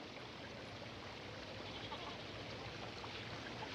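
A creek flows in the wilderness, a faint, steady broadband rush of running water with no distinct splashes, continuous throughout.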